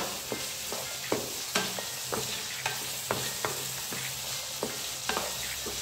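Cauliflower pieces and mixed vegetables fry in a pan with a steady sizzle, broken by regular crisp scrapes and clacks of a spoon stirring about every half second, close and alone without talk.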